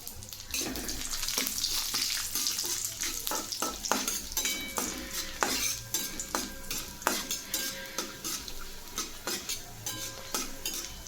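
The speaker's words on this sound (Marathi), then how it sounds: "त्यामध्ये आता आपण हे काजू आणि बदामचे काप टाकून तळून घेऊ" Cashew and almond slices fry in hot ghee in a pan, a busy close sizzle broken by rapid metal stirring and scraping clinks against the pan, steady and repeated throughout with no voices.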